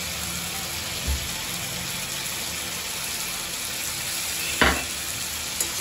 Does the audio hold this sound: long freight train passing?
no